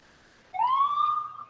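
A Willmar ambulance at a small-town summer parade gives a single short siren whoop, rising quickly then holding and fading within about a second, loud and close with no talk over it.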